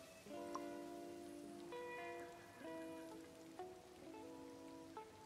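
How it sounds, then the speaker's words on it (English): Soft, steady rain patters in a Disney Dreamlight Valley game scene, a continuous hiss with gentle drops beneath a calm melodic tone sequence. "It's sunny and raining?"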